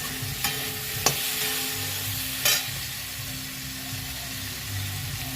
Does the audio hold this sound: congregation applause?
no